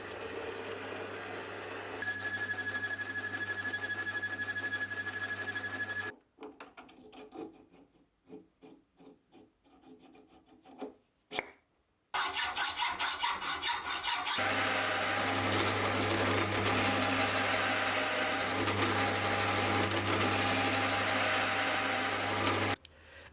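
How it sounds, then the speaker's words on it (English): A homemade metal roller bender works as a piece of aluminium is fed through its rollers by hand, giving a steady rasping, grinding mechanical noise that stops for a few seconds of scattered clicks before resuming loud and continuous. "just feeding in a piece of aluminium by hand, and I can already see it working."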